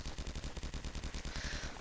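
Rapid machine-gun fire in a Roblox D-Day battle game, a loud, fast regular stream of shots filling the whole stretch without pause.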